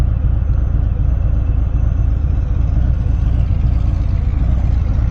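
Harley-Davidson Fat Bob motorcycle engine running steadily, a loud continuous low rumble with no speech over it.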